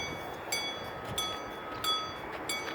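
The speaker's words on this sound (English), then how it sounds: "say a train's coming from this direction, from the single track," A model train rolls along a single track of a layout with magnet-triggered timing and switches, giving a steady faint running hum with soft periodic clicks and brief high tones, no talk.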